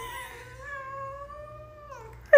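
A house cat meows in a long, drawn-out, angry wail at an automated feeder that has not yet dropped food, then lets out a sharp, louder cry at the very end.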